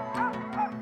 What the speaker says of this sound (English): The dogs sense that it's about to start, and preferably all want to come along.